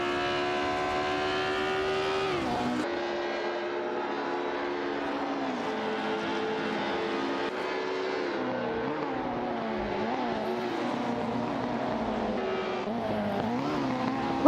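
AI-driven race cars in a racing video game roar past with a steady, continuous engine whine whose pitch climbs and dips as they accelerate and shift. The sound is loud throughout, with no talking.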